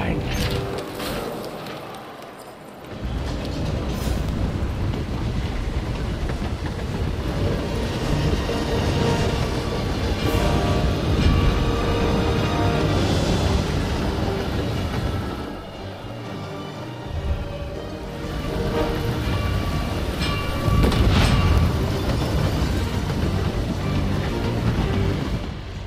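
Train running on rails in the video game Hitman 3, a continuous loud rumbling roll with a brief drop near the start and again midway, speech-like sounds mixed in.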